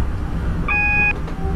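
A cab warning alarm in a Train Simulator 2015 game, a single steady electronic tone lasting about half a second, clear above the rumbling cab noise of the train.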